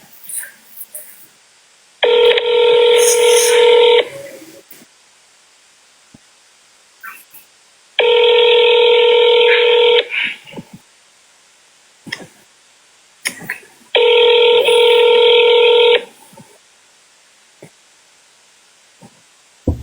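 Three long, loud two-tone dialing bursts from a recorded phone call, each lasting about two seconds and spaced evenly apart, with faint clicks, breaths and small noises in the gaps between.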